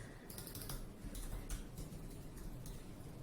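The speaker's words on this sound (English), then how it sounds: "Just typing out the months." Typing on a computer keyboard while building a digital planner, heard as a steady, fairly soft clatter of keystrokes in close, quick irregular bursts, with no voices.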